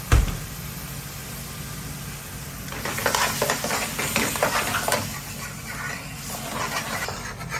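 Prawns stirred and fried in a pan of base gravy, a steady sizzle with scraping stirring sounds that grow busier partway through, no talking.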